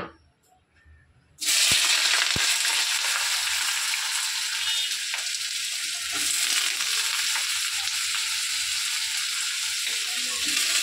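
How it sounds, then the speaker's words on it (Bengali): Potatoes hit hot oil and burst into a loud, steady frying sizzle that carries on unbroken after a moment of near silence. "দেখো তেল গরম হয়ে গেছে, আলুটা দিয়ে দিই।"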